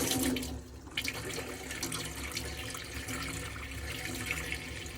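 Water runs steadily from the hot tap of a 2008 Knaus Van Ti campervan, hissing and sputtering as air pushes through the pipes, close and continuous without any talk.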